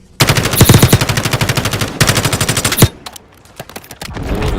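Rapid automatic gunfire from Call of Duty Warzone Mobile, loud and close, in two sustained bursts with a brief gap, followed by quieter game ambience.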